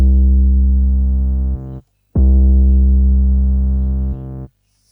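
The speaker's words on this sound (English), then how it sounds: "So this bass is actually a sample from the XOXO sample pack." A bass waveform sample from the XOXO pack played on a Synthstrom Deluge: two long, steady, loud low synth notes separated by a brief gap, with nothing else around them.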